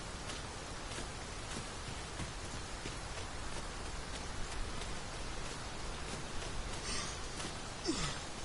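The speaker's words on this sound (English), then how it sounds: "Really coming down. We can push through a bit of rain," Heavy rain pours in the video game Dragon's Dogma 2, a steady, even hiss of falling water that stays soft and continuous throughout.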